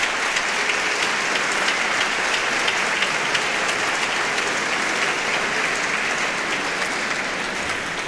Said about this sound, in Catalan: demane per a tots els grups que van a participar avui ací en esta gala un fort aplaudiment